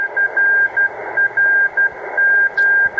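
An HF radio signal received on a delta loop antenna: a steady hiss of band noise with an on-off tone keyed in short and long bursts like Morse code, clear and fairly loud.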